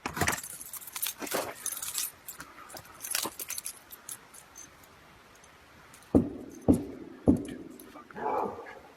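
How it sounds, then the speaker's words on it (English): Keys jangle and clink in quick bursts near the microphone during the first few seconds, followed by sharp yipping barks from a dog and later rustling. "Get my keys."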